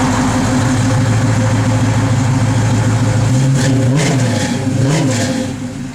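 Engine of a 1970 Chevrolet Monte Carlo, a steady loud idle with a couple of quick blips of the throttle rising and falling near the end, heard up close with no talking.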